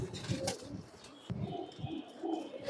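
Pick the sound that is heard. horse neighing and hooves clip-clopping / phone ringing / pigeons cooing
pigeons cooing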